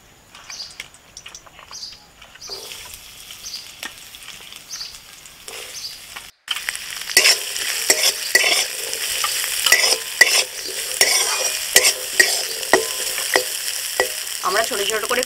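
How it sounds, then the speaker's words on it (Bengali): Small chopped coconut pieces fry in hot mustard oil, starting as a quiet crackle and swelling into a loud, steady sizzle with repeated scraping stirs close by. Faint bird chirps sound in the background, and no one speaks. "তেলটা গরম হয়ে গেলে ওর মধ্যে এবার যে ছোট ছোট নারকলটা কাটা ছিল নারকলটাকে একটু ভেজে নেব"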